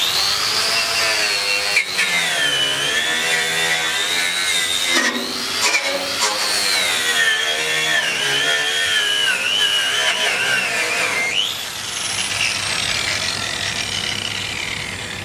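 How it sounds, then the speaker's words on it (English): An angle grinder fitted with a bevel wire brush strips rust from a steel trailer, producing a loud, continuous abrasive whine that rises and dips in pitch as it works, with no talking. "we're going to use the bevel brush to do that"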